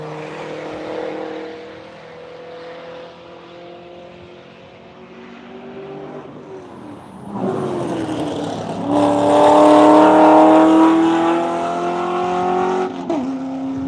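A Corvette race car slides through a turn, and then a turbocharged Subaru race car follows. Engines rise and fall as they pass at middle distance, building to a louder, higher revving run near the end.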